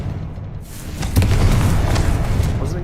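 A Confringo blasting spell exploding in a video game, a deep rumbling boom that swells after a brief quiet lead-in and rolls on for a couple of seconds.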